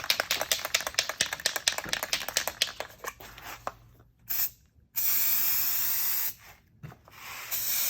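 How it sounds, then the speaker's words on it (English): An aerosol can sprays a rust-proofing coat onto car parts as long steady hisses, preceded by a rapid run of rattling clicks from the can being shaken, close by with no talk. "we're just gonna spray probably 2 lighter coats is all you really need"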